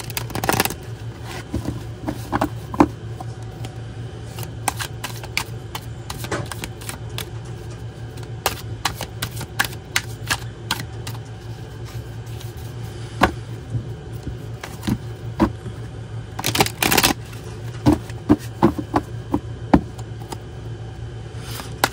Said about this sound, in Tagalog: Balasahin lang po natin mabuti.